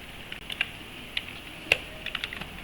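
Code being typed on a computer keyboard during a Python math module session: sparse, irregular key taps with short pauses, one sharper clack near the middle, close and fairly quiet with no talking.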